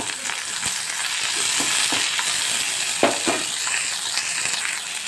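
Tomatoes with mint cooking down in a pan, a steady close sizzle with occasional soft stirring clicks and scrapes, continuous and even with no talking.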